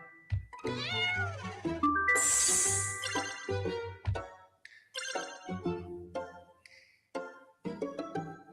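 Cartoonish cat meows from the video game Boop sound in a quick series of bright, tonal calls, some stretched and some clipped short, close and clear with short gaps between them.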